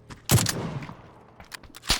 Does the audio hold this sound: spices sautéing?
no